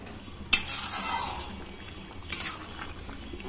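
Marinated meat is stirred and sautéed in a pan, a sharp utensil clank opening a soft sizzle, then more scraping clinks of the spoon against the pan, close and moderately loud.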